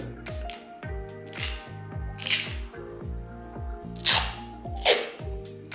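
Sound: wrapping adhesive tape around a lithium battery pack

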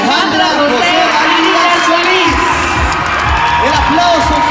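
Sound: crowd applauding and cheering at pageant crowning

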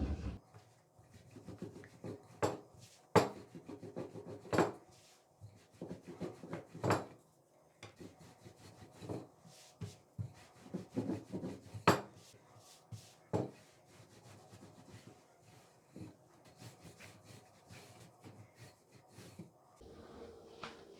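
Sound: rolling out dough with a rolling pin

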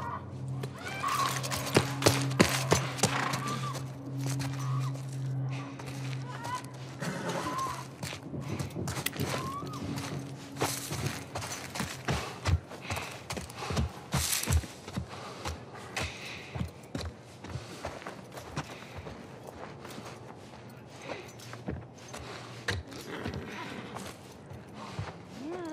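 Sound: horse hooves in a video game

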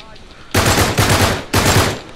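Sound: gunfire in the video game Uncharted 3

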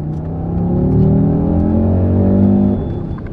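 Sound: Audi RSQ3 five-cylinder engine revving

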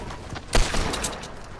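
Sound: gunfire in Fortnite video game

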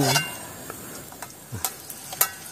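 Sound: frying clams in a pan

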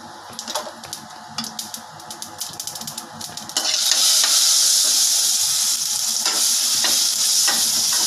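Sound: mustard seeds spluttering in hot oil

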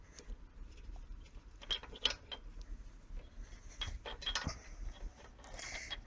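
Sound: removing carburetor reservoir center bolt on snowblower engine

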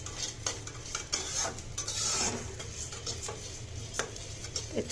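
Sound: rice being fried and stirred in a pan

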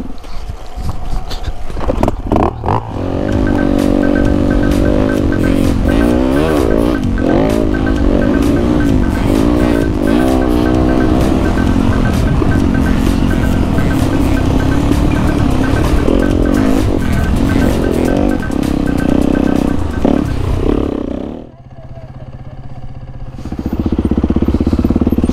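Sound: dirt bike engine running after push start

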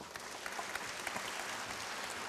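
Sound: audience applause at a concert

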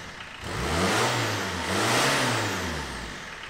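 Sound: van engine revving

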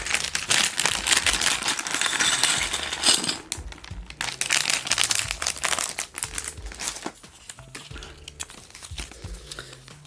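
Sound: opening Lego set packaging

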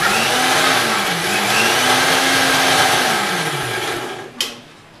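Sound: mixer grinder blending biscuits and milk

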